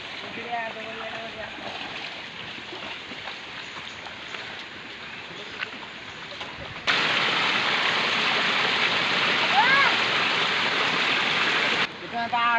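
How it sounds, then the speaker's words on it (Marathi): River water rushing steadily near a village path, a broad constant wash that swells louder midway and stays full, with voices talking over it early on. "इथं नदी आहे."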